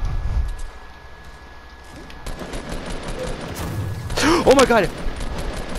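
Rapid bursts of gunfire crackle in a Fortnite battle and build to a loud, dense volley near the end, with an excited voice exclaiming over the shooting.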